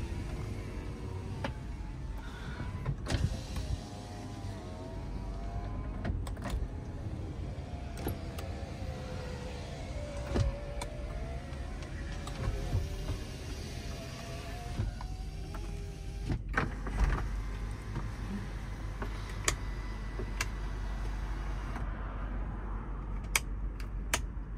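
Power windows of a 2004 Toyota Land Cruiser run up and down repeatedly, with whining electric motor hums and clunks as each window stops, inside the quiet cabin.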